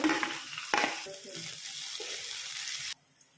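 A tempering of dried red chilies, garlic, onions, chana dal, cumin and asafoetida fries in hot oil, a loud hiss with a sharp burst as ingredients hit the pan, then stirring, before the sizzle cuts off abruptly.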